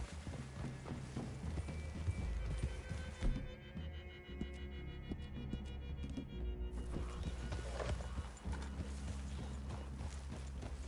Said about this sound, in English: I'd leave your horses the other side of this clearing.